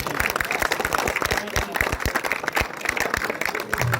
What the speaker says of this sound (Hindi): तो एक बार जोरदार तालियां हो जाए हमारे कॉलेज के लिए